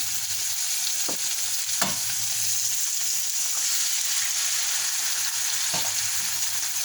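Spam, eggs and vegetables fry in a pan with a steady, close sizzle, broken by a few brief scrapes or stirs.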